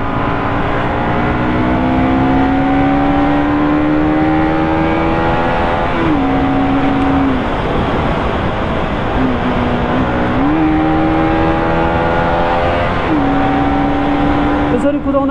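A Bajaj Pulsar NS200 motorcycle is ridden fast, its engine droning loudly and steadily with pitch climbing through the revs and dropping at several gear shifts. Someone talks over the engine noise.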